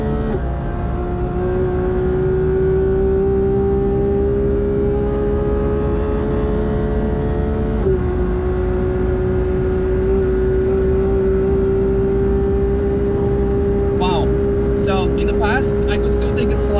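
A Porsche GT3 circles the Nürburgring circuit with a loud, steady engine drone that holds a near-constant pitch, dips briefly midway, then continues with some rattling noise near the end.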